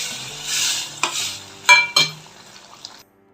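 Spices sizzle and sputter in hot oil for a brinjal gravy, with a few sharp scraping clinks of a spoon stirring the pan before the sound fades.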